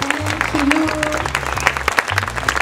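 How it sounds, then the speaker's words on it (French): Concert crowd at a festival applauding the technical crew, a moderate patter of clapping mixed with low musical tones and a voice partly over it. "vraiment un bon applaudissement pour notre équipe"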